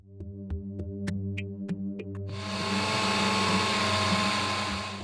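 A blender starts up partway through, its loud whirring motor running steadily after a quieter stretch of humming tones and clicks, as food is pureed for feeding through a nasogastric tube.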